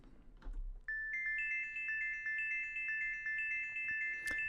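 Synth notes sent through an echo effect set fully wet, so only the delayed repeats sound: a steady run of bright, clean tones pulsing in an even rhythm, fairly quiet and alone after a short low thump.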